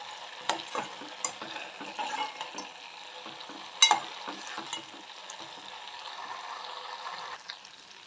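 Ghee cooks in a pan in a home kitchen, giving a soft, faint sizzle. Occasional clinks and scrapes of stirring break through, including one sharper knock midway, and no one speaks.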